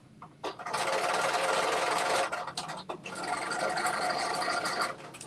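A sewing machine fitted with a rolled hem foot runs fast and loud at close range in long continuous bursts, broken by a brief pause, while hemming an infinity wrap dress.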